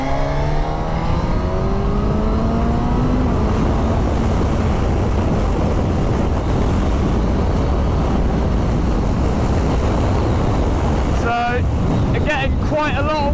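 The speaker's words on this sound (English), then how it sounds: "Quite a lot of wind off of this screen actually." Loud, constant wind roar buffets the microphone while riding a 2022 Suzuki GSX-S1000GT motorcycle on a motorway, with a rising engine note early and brief harsh rustling near the end.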